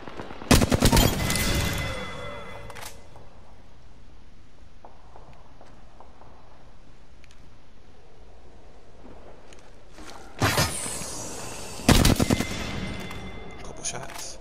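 Gunfire in Apex Legends: a loud, rapid burst of automatic shots at the start, a quieter stretch with footsteps, then two more close bursts near the end.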